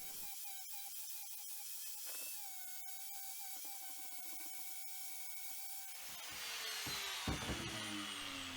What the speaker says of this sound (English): I'm going to use a flap disc on my angle grinder to dress all of the welds